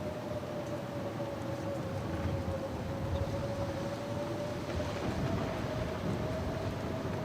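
A windy storm blows in The Long Dark survival game, a steady low rushing roar with a faint sustained tone above it, constant and unbroken throughout.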